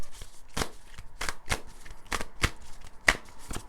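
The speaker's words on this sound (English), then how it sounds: "I'm going to shuffle these cards" Tarot cards being shuffled by hand in a riffle-like rhythm, about eight sharp papery bursts spaced roughly half a second apart, close and clear with no talking.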